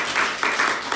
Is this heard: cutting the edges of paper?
no